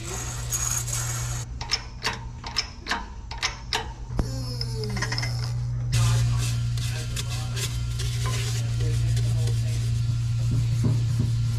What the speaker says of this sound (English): now we're just putting the bearings on the casing itself. Got that right there all lined up. Start pressing it down.